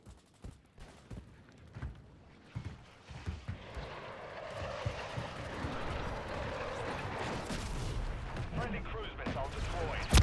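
Call of Duty gunfire starts as scattered sharp shots, then thickens into a continuous, rumbling roar of rapid fire and explosions that builds toward the end.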